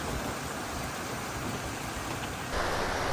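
Dense, steady roar of heavy typhoon rain in Ilocos with a gusty wash of wind, loud and continuous, swelling slightly louder near the end.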